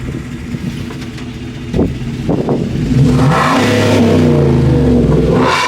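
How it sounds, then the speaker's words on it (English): A tuned 5.3L gas Chevrolet Silverado with the rev limiter turned off idles roughly, blips a couple of times, then revs up and holds a loud, sustained rising drone close by. "Go ahead and rev it up."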